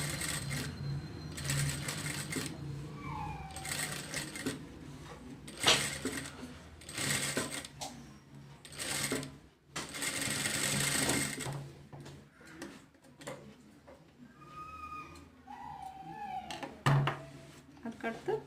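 A sewing machine stitches cowl sleeves for an umbrella frock in short bursts of rapid mechanical clatter separated by pauses, with a voice talking in between the runs.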